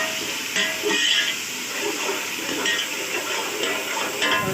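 Bay leaf and white cumin sautéing in hot oil for white chana pulao, a continuous close hiss and sizzle with faint clinks of stirring, steady throughout.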